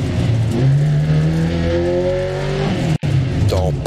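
A rally car engine in Dirt Rally 2.0 revs hard and climbs in pitch, then a brief cut is followed by tires skidding in a handbrake turn, loud and close.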